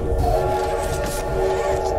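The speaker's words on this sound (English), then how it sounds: "The train's speeding up! It is! It's going too fast!" A speeding train in the video game Poppy Playtime Chapter 2 gives off a loud, continuous rumbling drone with a steady tonal hum, close and unbroken throughout.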